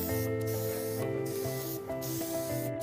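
An aerosol can of furniture lacquer sprays onto a nightstand in several short, evenly spaced hissing bursts with brief pauses between them, heard over steady background music.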